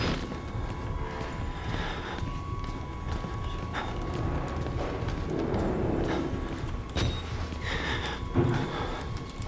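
Horse hooves clip-clop at a steady pace through a noisy game soundscape, with rumbling and other effects around them.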